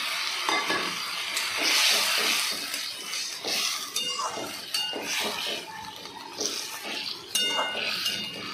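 Cauliflower florets for chilli cauliflower are tipped into a hot pan and stirred, giving a steady sizzle with scraping and clinking of a utensil against the pan, close and fairly loud.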